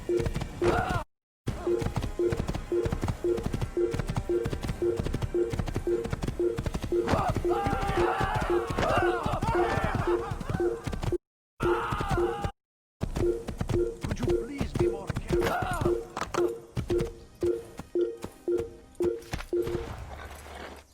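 Horse hooves gallop in a steady rapid clip-clop through an Assassin's Creed video game chase, loud and continuous with brief dropouts, mixed with faint grunts and game sounds.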